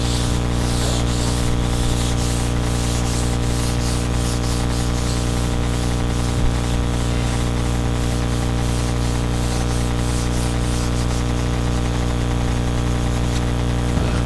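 Car body on a Butcher Dart project being sanded, a steady close scratchy rubbing with repeated rhythmic strokes over a constant low machine hum, no talking.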